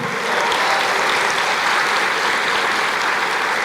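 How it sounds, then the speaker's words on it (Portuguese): A church congregation claps and applauds in praise, a dense, steady wash of many hands filling the room at full strength throughout. "aplauda o Senhor"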